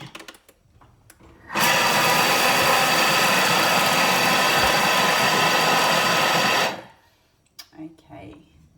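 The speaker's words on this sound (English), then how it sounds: "And then we're just going to blitz that all again to break them all up." A food processor blitzes rolled oats and herbs in one loud, continuous five-second whirring burst, starting and stopping abruptly, with quiet kitchen handling before and after.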